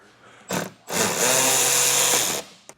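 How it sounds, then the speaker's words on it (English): A power tool whirs as it backs out T10 screws inside the wheel well of a 2023 Buick Encore: a short burst, then one sustained run of about a second and a half that stops abruptly, loud and close with no talk. "Inside of our wheel well here, we have 2 more T10 screws to remove."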